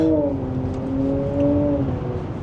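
An electric car accelerates with a simulated gearbox engine sound, a loud tonal whine climbing in pitch, then breaking off for a synthetic gear change before climbing again.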